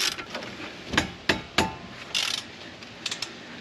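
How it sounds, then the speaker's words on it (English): Ratchet wrench tightening the bolts of a brake caliper bracket on a car during a replacement of a seized caliper, heard as a few sharp, close metallic clicks and clacks spaced irregularly, with no talking. "we're going to see if we can kind of just put the whole thing on and start ratcheting"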